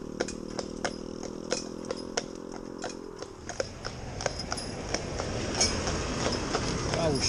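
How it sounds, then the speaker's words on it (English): An old skip lorry with chains on it rumbles along, its engine droning steadily before giving way to a rough, clattering rattle of loose chains and metal that grows louder toward the end, with sharp clanks scattered throughout. "Old skip lorry with the chains on it making a row."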